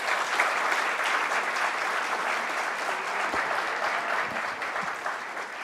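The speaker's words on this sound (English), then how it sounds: "please give them a big round of applause" A large audience at a law college valedictory programme gives a big round of applause for teachers and volunteers, a thick, continuous roar of clapping held steady throughout.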